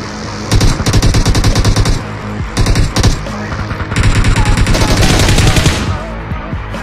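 Bursts of automatic gunfire in the PUBG Mobile battle royale game, loud rapid volleys in several runs separated by short pauses, with game sound behind.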